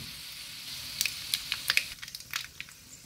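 Garlic frying in hot oil for a dhaba-style sev bhaji, a quiet steady sizzle broken by a run of sharp crackles and pops that come faster toward the end.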